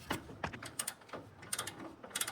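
A 17 mm bottom shock bolt being loosened on a Suzuki Jimny during a suspension lift install, heard as several short metallic ratchet clicks in quick bursts, close and moderately quiet.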